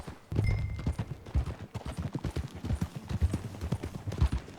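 Horse hooves clip-clop steadily at a riding pace in the video game Red Dead Redemption 2, close and fairly loud, with a low rumble underneath and no talk.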